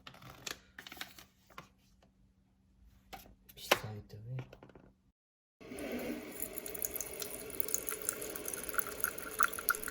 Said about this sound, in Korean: 녹차를 우리기 위해 정수기로 물을 내리는 과정